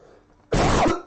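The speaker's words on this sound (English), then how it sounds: "sorry about the coughing" After a quiet moment, a close, harsh cough bursts out, followed by a second short cough right at the end.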